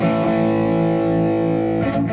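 An electric guitar chord through a Boss Katana amp and a Tube Screamer-style overdrive rings out with mild overdrive, sustained and loud, ending with a brief scrape of the strings.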